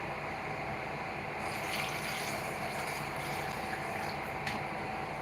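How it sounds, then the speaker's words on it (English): Water pours steadily into a bowl holding baking soda, being readied for washing strawberries for a fruit board, making a continuous close rushing splash that swells slightly midway. "And I just pour water in."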